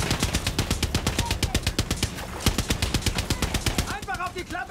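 Rapid automatic gunfire in Far Cry 6, fired at a ship's hatch, with a steady stream of evenly spaced loud shots for the full length and brief tonal game sounds near the end.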